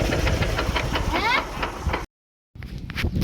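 A farm tractor's engine is started and runs with a rough, pulsing chug. The sound cuts out for about half a second, then the engine resumes.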